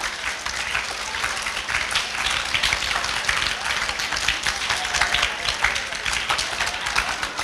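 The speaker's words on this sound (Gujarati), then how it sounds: "તાળીઓ તો સતત વાગવી જ જોઈએ" An audience applauds at a school annual function in a hall, sustained dense clapping from many hands at a steady loud level with no pauses.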